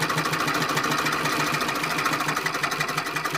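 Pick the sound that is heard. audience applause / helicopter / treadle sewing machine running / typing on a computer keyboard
treadle sewing machine running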